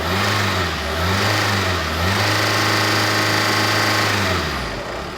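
A car engine idles steadily, then revs up and settles again, a continuous near mechanical drone with rising and falling pitch and no talking.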